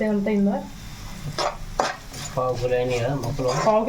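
Bitter gourd pieces fried and stirred in a pan, with a utensil scraping and clinking against the metal under a soft sizzle, while someone talks over it.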